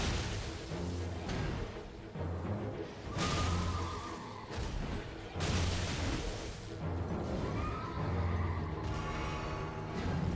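Spectral steed in Elden Ring whinnies several times in the Mountaintops of the Giants, loud neighs set against booming combat impacts and rumbling game sound.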